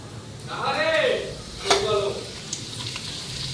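Papad frying in a pan gives a crackling sizzle, with someone talking over it and a brief sharp clink partway through.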